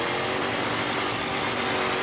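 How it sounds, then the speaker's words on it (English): A demolition derby car's engine screams at high revs with its throttle stuck, a dense continuous roar that fills a short two-second stretch without pause. "You can hear it revving way, way up."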